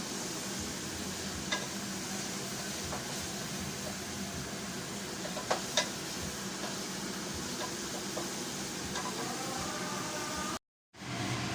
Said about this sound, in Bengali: এখন চালটাকে, ডালটাকে খুব ভালোভাবে ভেজে নিতে হবে